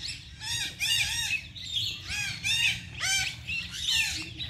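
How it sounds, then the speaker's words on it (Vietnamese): Decoy parrots kept by Ede bird trappers call in repeated bursts of harsh, rising squawks and chirps, fairly close, with short gaps between calls and a faint outdoor background. "nhiều chim lắm, toàn là vẹt không nha các bạn"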